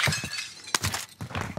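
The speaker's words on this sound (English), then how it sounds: "Broken glass, is that you? Me breaking." Glass shatters during a shooter video game match, several bright crashing bursts with tinkling debris in quick succession, loud and close with brief gaps between them.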